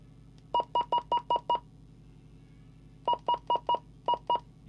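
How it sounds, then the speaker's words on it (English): Two clusters of short, identical electronic beeps from a Lafayette Venus CB radio, about five and six quick tones each, separated by a brief pause, clear and close. "can turn the beep off in the instructions"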